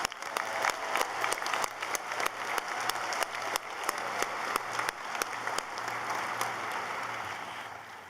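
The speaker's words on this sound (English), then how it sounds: "One more round of applause." Sustained applause from a graduation ceremony audience at a law school, steady dense clapping with a few sharper individual claps, continuing at an even level throughout.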